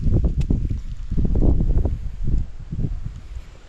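Gusty wind buffets the microphone in uneven bursts of low rumble, with a rustling texture like leaves stirring, heard close and loud with no talking.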